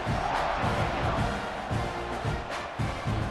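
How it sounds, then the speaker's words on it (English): Football stadium crowd at a UCLA vs Texas A&M game buzzing after a touchdown, a dense, steady roar of many voices with scattered shouts, loud and continuous throughout. "this crowd is buzzing after that last score"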